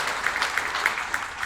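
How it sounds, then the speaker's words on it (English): A crowd applauds at a sports awards tribute ceremony, a brief, even patter of clapping from a moderately distant audience with a few sharper claps standing out. "I think we all deserve to give Chris a big round of applause for everything he's done"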